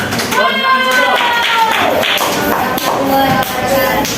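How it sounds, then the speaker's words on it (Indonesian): An Islamic religious education class claps on cue from the teacher, loud and close, with voices chanting or calling out together over the rhythmic hand claps throughout. "Kasih tepuk tangan dulu semuanya."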